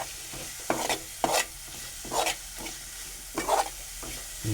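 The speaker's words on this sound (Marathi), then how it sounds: "मसाला टाकलं ते मी आता परतून घेतो चांगलं परतून घेऊया आपण" Masala being sautéed in a pan for an onion, tomato and potato curry: a quiet continuous sizzle broken by several scraping stirs of a spoon against the pan, about five strokes spread unevenly, no talk.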